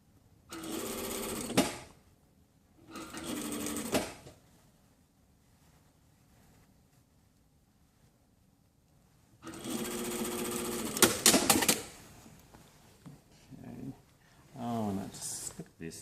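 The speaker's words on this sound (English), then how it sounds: "make sure that you don't sew through your lining underneath" A domestic sewing machine stitching through layers of fabric and lining runs in three bursts: two short runs close together, then a longer run after a pause, with quiet handling noises and faint movement at the end.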